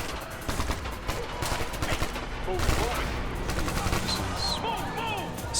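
Gunfire rattles in Ghost Recon Future Soldier, dense bursts of rapid automatic shots mixed with scattered single cracks and whizzing ricochets, loud and close, with shouting voices over the fighting.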